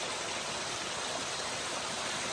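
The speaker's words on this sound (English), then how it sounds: "there's water running everywhere down the trail" Water runs down a steep, rocky trail in a constant broadband rush, like a small stream tumbling over stones, steady and close with no talk.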